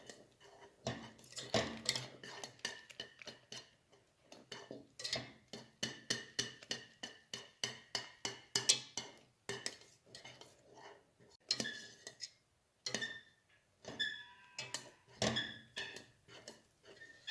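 A spoon clinks and scrapes rhythmically against a pot while thickening custard cream is stirred off the heat, quick repeated taps and scrapes, fairly faint and close.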